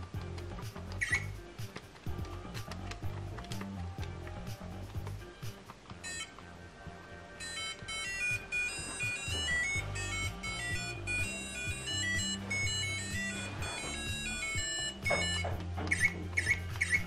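A mini portable retro handheld game console plays quiet, beeping chiptune music and sound effects, with tinny melodic tones and pattering clicks throughout.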